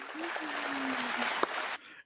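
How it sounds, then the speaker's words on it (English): Recorded applause played back during a livestream, a quiet wash of clapping with a faint tonal hum beneath, cutting off abruptly near the end. "I want to put that applause in there, too."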